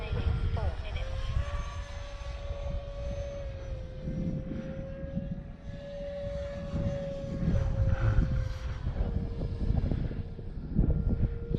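Mighty Viper 50mm electric ducted-fan RC jet on a 4S 1300 battery flying overhead in wind, a steady whining fan tone shifting in pitch as it passes, with wind buffeting and a person talking.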